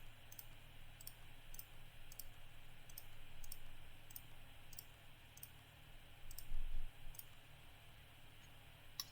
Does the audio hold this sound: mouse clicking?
yes